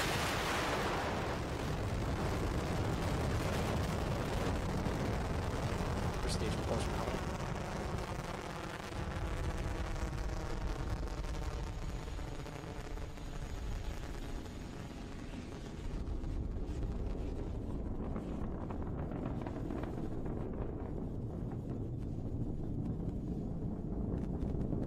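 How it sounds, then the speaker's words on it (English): SpaceX Falcon 9 rocket lifting off carrying a Dragon cargo capsule, a deep broadband roar with crackling rumble that swells and slowly fades as it climbs away, heard from a distance. "T-minus liftoff on Falcon 9. Falcon 9 is clear to power."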